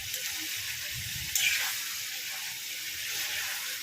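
Chicken pieces frying in a pan, a steady broad sizzle and hiss running throughout with a brief louder crackle partway, no voices.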